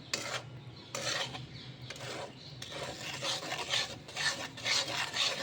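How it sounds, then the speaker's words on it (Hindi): Rajgira flour being stirred and roasted in hot ghee with a spoon, a steady close scraping and rasping in repeated strokes with brief pauses, no voices. "अब हम इसे रेगुलर जो है वो चलाते रहेंगे।"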